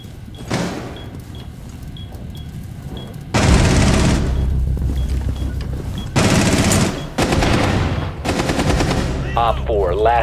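Rainbow Six match with repeated bursts of automatic gunfire, several loud sustained volleys separated by quieter gaps with small electronic beeps, and a voice heard briefly near the end.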